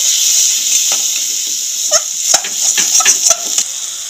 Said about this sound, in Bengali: লঙ্কার গুঁড়ো, হলুদ। এবার ভালো করে কষে নেব।